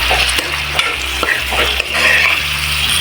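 Paneer frying in a hot pan with salt, a steady loud sizzle running throughout while a spatula stirs it in several scraping strokes.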